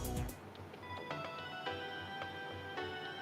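A phone ringtone plays a short electronic melody of bright, repeating tonal notes, clear and close, following a brief louder burst at the start, with no talk over it.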